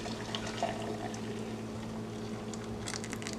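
Water pours steadily into a pot of Spanish rice being cooked in a home kitchen, a continuous soft splashing trickle heard close up without talk.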